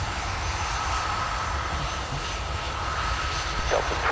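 A Delta Airbus A319 airliner at snowy Minneapolis airport in winter produces a steady, loud jet-engine roar that holds for the full few seconds with no talk.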